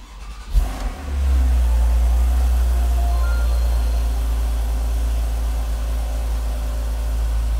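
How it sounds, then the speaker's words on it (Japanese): A Porsche 911 (Type 991) Carrera 4 Cabriolet engine cranks and fires up with a key, then settles into a loud, deep, mechanical rumbling rev that holds steady and close. "では今ですね、エンジン始動しましたが、ポルシェらしいですね、メカニカルサウンドが、響き渡っていてですね"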